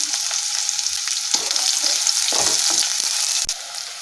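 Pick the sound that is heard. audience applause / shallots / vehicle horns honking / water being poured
shallots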